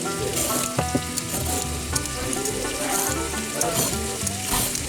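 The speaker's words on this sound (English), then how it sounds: "So we're gonna let these onions and carrots cook for just about 3 or 4 minutes." Sliced onions and carrots fry in butter in a pot, giving a loud, dense, steady sizzle with occasional crackles and pops, close up and with no talking.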